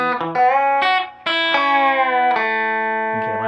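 Electric guitar with a driven, effected tone playing a country lick, a quick run of picked notes followed by a bent, sustained note that rings out, close and loud on its own.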